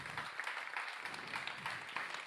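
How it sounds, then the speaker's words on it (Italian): Audience applause in a theatre for writer and journalist Valentina Farinaccio during an album presentation, a dense patter of clapping that stays fairly steady and moderately loud for a couple of seconds, with no talking over it. "facciamogli un applauso perché fa un lavoro meraviglioso"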